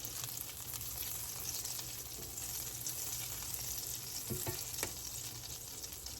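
Butter and olive oil sizzle steadily in a pan, a soft continuous frying hiss heard up close with a few faint clinks near the end, no voices.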